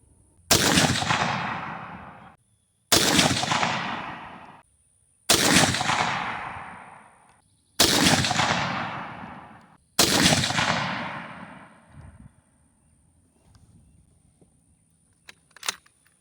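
Five sharp, loud rifle shots from a BCA bolt-action upper loaded with Ramshot powder, fired at a target at steady intervals of about two and a half seconds, each followed by a long ringing echo decaying across the range.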